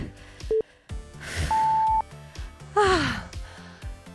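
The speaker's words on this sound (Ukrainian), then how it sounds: "цей дзвінок це таке щастя." A workout interval timer signals the end of a set during a side-targeting fitness routine, giving a short tone, then a longer steady beep and a falling chime, fairly close and clear with no talking.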